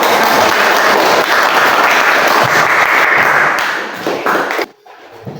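Loud, dense applause fills a classroom after a group presentation, steady clapping from many students lasting about four and a half seconds before cutting off abruptly into near quiet.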